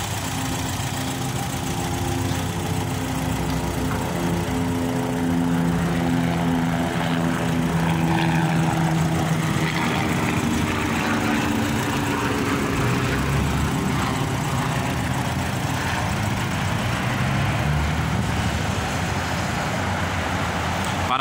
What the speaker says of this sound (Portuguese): Motorzinho, barulhinho do motor dela como se ela tivesse saído de fábrica.